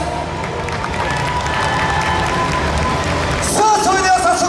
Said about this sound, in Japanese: ご声援、ご手拍子のほど一つよろしくお願い申し上げます